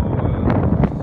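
Strong wind gusting over a Merry Fisher 1095 motorboat lying at anchor, a brief loud rush of buffeting noise against the microphone.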